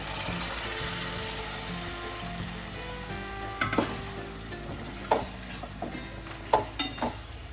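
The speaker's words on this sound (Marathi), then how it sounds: "सगळं व्यवस्थित अगदी असं परतून घ्यायचं आपल्याला" Urad dal mixture sautéing in a pan, a steady sizzle with scraping stir strokes that grow more distinct in the second half, close by with no talking.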